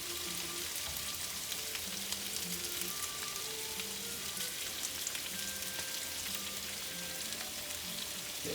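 Sausage and peppers sizzle in a pan as tomato paste is stirred in, a dense, continuous crackle and hiss with small spatters and a soft scraping of the spoon.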